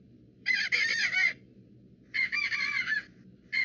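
Chickens in a coop sound a ground alarm: loud, strident squawking bursts repeating in a steady rhythm, each lasting about a second, over a low background rumble.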